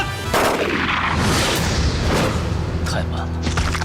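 Gunfire in a Chinese TV drama scene where police surround a suspect: a loud, sustained burst of heavy shots and booms rings out close and dense, then tails off.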